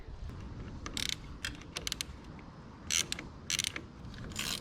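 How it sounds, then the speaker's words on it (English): Dual-action ratchet wrench loosening a bolt on an old battery, giving quick bursts of close, crisp ratcheting clicks in uneven clusters over a low background hum. "Oh, dual ratchet action. Got the ratchet and wrench and the ratchet."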